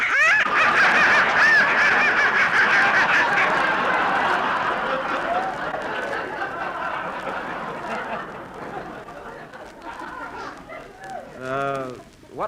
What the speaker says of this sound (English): that noise came from some live ducks I've got in the basement